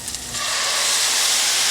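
Vodka poured into a hot pan with browned onion bursts into a flambé, a few quick crackles and then a loud, steady rushing hiss and sizzle of flame and steam.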